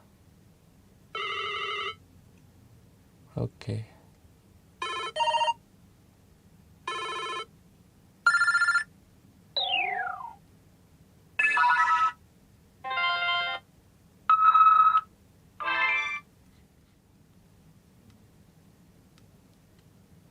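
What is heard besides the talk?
ringtone played on BlackBerry Gemini 8520 phone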